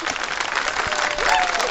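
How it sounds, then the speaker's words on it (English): Short burst of recorded applause played from a soundboard, a dense wash of clapping hands with a faint crowd murmur, lasting under two seconds. "Hey, Darius, give me some applause."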